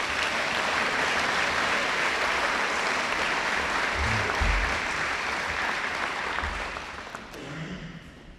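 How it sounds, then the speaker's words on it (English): An audience at a school awards presentation claps for the house captains, a sustained, even round of applause that thins out toward the end, with no voices over it. "Let's give them a round of applause."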